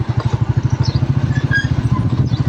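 A motorcycle engine runs while the rider parks it, giving a steady, rhythmic low putter of regular firing pulses. It is close and loud, with no talk over it.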